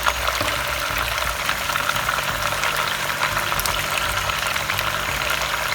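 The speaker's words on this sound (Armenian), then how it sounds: "ու այս ամենը շարունակում ենք տապակել, արդեն տոմատի մածուկով" Chicken pieces and potatoes frying in a pan with tomato paste give off a steady, dense sizzle and bubbling hiss throughout, with no voices.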